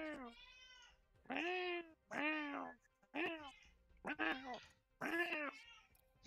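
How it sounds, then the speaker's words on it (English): A very vocal house cat meows repeatedly, about six drawn-out, wailing cries in a row, loud and close, with short pauses between them. "God, what is wrong with your cat?"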